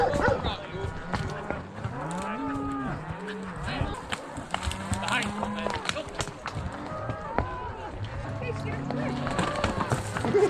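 Herding dogs bark at cattle moving up a mountain trail as cows moo loudly and repeatedly close by, with people calling out over the steady animal din.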